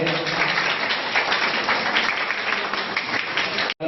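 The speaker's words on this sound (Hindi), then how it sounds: "जोरदार ताली से आप लोग स्वागत करेंगे।" Loud, continuous applause from an audience at an award ceremony honouring successful students in Madhubani, dense steady clapping that fills the whole stretch and cuts off abruptly at the end.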